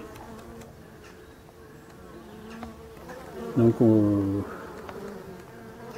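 Black honey bees at a hive on a mild January day: a faint buzzing background with one louder bee droning close by for about a second, under a brief spoken word.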